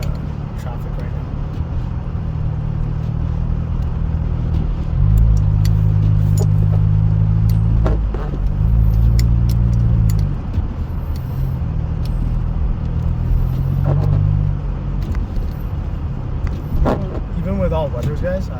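A car fitted with Bridgestone Weatherpeak all-weather tires drives through 15–20 cm of thick snow in traffic. A steady low rumble of road and engine noise swells and eases, with a person talking over it inside the car.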